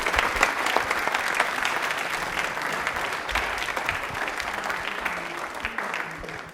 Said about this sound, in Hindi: ताली एक बार जोरदार हो जाए इनके लिए।